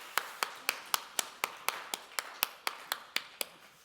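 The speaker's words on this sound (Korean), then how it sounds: "우리 하나님께 영광의 박수를 내드리겠습니다" Congregation at a Korean church's Sunday worship service claps in slow, even unison, about four sharp beats per second, each clap crisp and distinct, with no voices over it.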